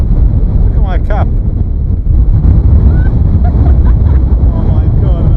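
Strong gusting wind roars into the microphone on Irish sea cliffs, loud and constant throughout. Voices are heard briefly under the wind.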